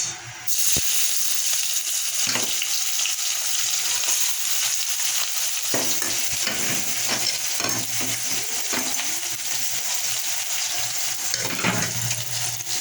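Chopped onion hits hot oil already holding fried dried chilli and a reddened bay leaf for a mutton curry, bursting into a loud, steady sizzle with scraping stirs recurring throughout, close up and without any talking.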